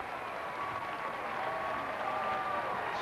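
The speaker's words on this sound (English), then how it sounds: "This crowd is going crazy." Crowd at a professional bowling match cheering and applauding, a dense, steady wash of clapping and shouts that holds for a few seconds with no break.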